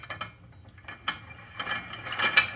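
Spring compressor being tightened on a UTV secondary clutch spring, a series of close metallic ratcheting clicks and ticks, sparse at first and then quicker and louder toward the end.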